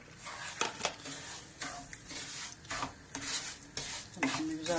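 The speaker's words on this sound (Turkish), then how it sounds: "Şimdi güzelce kavuracağız pembeleşinceye kadar" Stirring and sautéing in hot oil in a pan, with a steady sizzle under repeated scraping and clinking strokes of a utensil against the pan, close and fairly loud.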